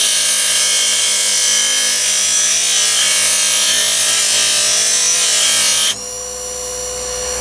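A bench vice buffing machine works a burr off a sawn metal edge, giving a loud, continuous grinding roar that drops slightly in pitch and level near the end.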